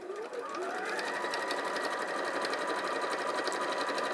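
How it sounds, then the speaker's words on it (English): Sewing machine running continuously while topstitching around the edge of a fabric yo-yo bag at a lengthened stitch, a fast steady whir heard up close with no speech. "I'm just going to top stitch around the edge"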